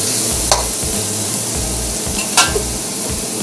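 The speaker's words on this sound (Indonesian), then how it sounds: "Tumis sampai garing." Spice paste for chicken asam pedas sautéing in a pan, a steady close sizzle with rhythmic scraping and stirring strokes and a couple of sharp utensil clinks.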